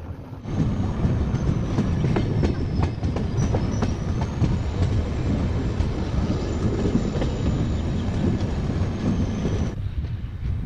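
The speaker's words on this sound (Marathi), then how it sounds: "आपली ट्रेन आता द्वारका स्टेशनला पोचते" A train rumbles along the rails with rhythmic clacking and a faint high wheel squeal, loud and continuous before it suddenly quiets near the end.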